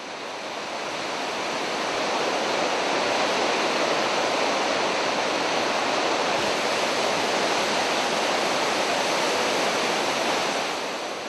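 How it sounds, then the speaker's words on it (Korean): The Blue Nile Falls in Ethiopia, 46 m high and 366 m wide, roar with a dense, continuous rush of falling water that fades in and stays loud and unbroken. "나일강에서 가장 아름다운 경관을 자랑하는 청나일 폭포입니다."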